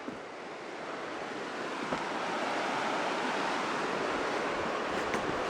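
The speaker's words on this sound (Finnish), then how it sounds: "se menee tämmönen koski tuolla vieressä" River rapids rush close by along the old Raate Road near former tank barriers, a steady broadband roar with wind buffeting, continuous and fairly loud throughout.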